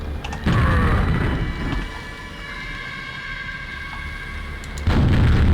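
A detonated hologram explosion in a video game sets off a loud, deep boom that bursts in suddenly and then rumbles on. A second heavy blast hits near the end, with no one speaking.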